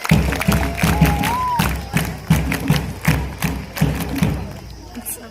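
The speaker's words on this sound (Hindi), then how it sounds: "एक बार जोरदार तालियां बजाओ आप लोग" Audience applause at a school Hindi Divas event, a crowd of students clapping in a loose rhythmic pattern with thudding beats, moderately loud, while a brief tone sounds over it.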